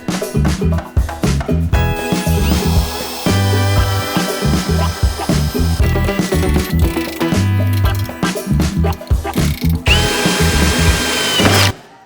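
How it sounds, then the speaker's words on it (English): A power drill whines loudly and nearly nonstop, boring through a car body panel to release a spot weld, its pitch rising and falling in bursts, with a sharper high-pitched run near the end. "you want to drill enough so you go through the first panel so that you can release the weld"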